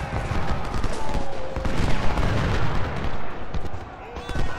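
Dense musket and cannon fire rolls across a Civil War battlefield in Ultimate General: Civil War at the Battle of Richmond, a continuous loud crackle of volleys and booms, with someone talking over it.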